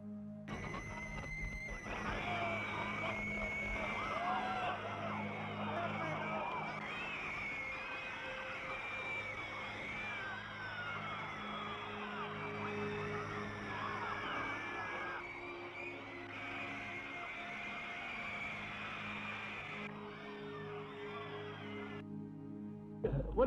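A 1960s Beatlemania crowd of fans screams and cheers continuously, shrill and massed, sustained at a steady level with piercing individual shrieks over a low rumbling background, fading out briefly near the end.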